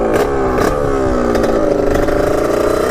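A warmed-up budget dirt bike engine revs steadily, its pitch climbing as the throttle opens, loud and close with a constant mechanical clatter and no talking.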